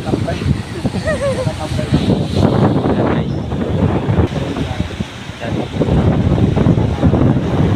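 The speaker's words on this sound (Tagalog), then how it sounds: "Ang hangin dito" Strong typhoon wind on the Pangasinan coast buffets the microphone in loud, continuous gusts, with people talking underneath and a faint wash of surf in the background.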